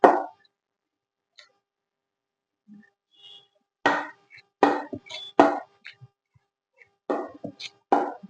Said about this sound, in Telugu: ఇప్పుడు ఇలా స్మాష్ చేసేసుకోవాలి మొత్తం కూడా.